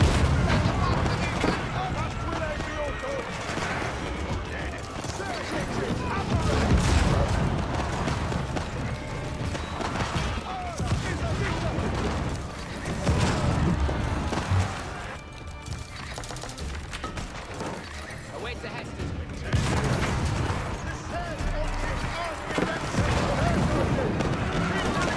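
Ottoman cannons firing in the video game Age of Empires: a busy battle mix of booming artillery shots, galloping hooves and neighing horses, with someone talking steadily over it.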